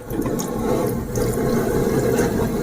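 Lemon juice pours in a steady, continuous stream, splashing close by into a container for a couple of seconds, without any talking.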